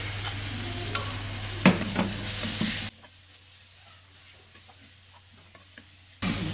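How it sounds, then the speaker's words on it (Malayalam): Quail masala gravy sizzles and is stirred in a clay pot, with a steady frying hiss and scraping that drops off sharply midway before returning, close and moderately loud with no talking. "ഇനി നമ്മുടെ മസാല ചേർക്കാം"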